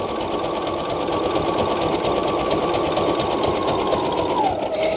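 A sewing machine stitches a placemat junk journal, giving a loud, steady, fast mechanical whirr with rapid needle chatter that continues at an even pace throughout and slows briefly near the end.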